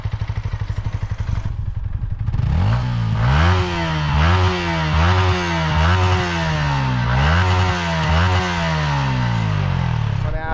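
A Yamaha R15 V4M motorcycle idles close by, then its exhaust revs repeatedly in sharp, rising and falling blips, roughly one every second, loud and alone with no talk.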